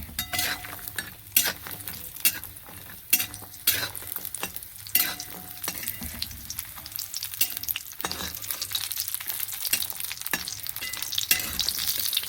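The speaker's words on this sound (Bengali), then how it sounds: "তেল দিয়ে দিয়েছি, বড়িটাকে ভেজে নেব। বড়িটা ভেজে নিচ্ছি।" Bori lentil dumplings fry in oil in a pan, a steady sizzle with scraping stirs and occasional clinks of a utensil, close and continuous with no talking.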